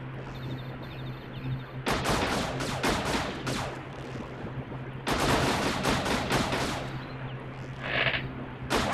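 Dense bursts of rapid game gunfire from the Wii Play shooting minigame, in two long loud stretches over a steady electronic hum, with a brief bright chime near the end.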